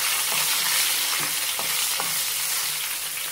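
Green chillies sauté in a pan, a steady close sizzle with a few soft stirring knocks, with no voices.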